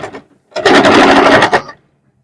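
A USHA Wonder Stitch Fashion Maker sewing machine stitches cloth in one loud, close, rapid mechanical whirring burst of about a second, with a brief softer sound just before.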